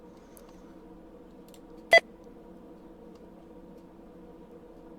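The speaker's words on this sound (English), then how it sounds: "I found out why the alarm's going off, because I had an unpaid item" Self-checkout alarm in a Roblox game going off for an unpaid item, giving one short sharp electronic beep against a low, steady background hum.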